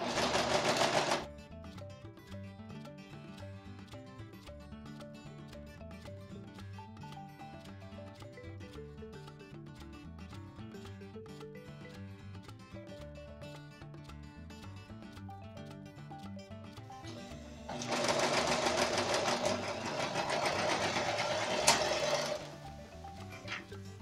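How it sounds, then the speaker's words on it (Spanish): An overlock serger stitches around the edges of a men's jogger, with a steady mechanical whir throughout and a louder burst of fast stitching near the end. No one speaks. "Y podemos comenzar a coser con la overlock todo alrededor."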